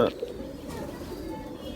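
Pigeons, including a Chinese breed cross, coo in soft, low, repeated calls close by under a steady background murmur.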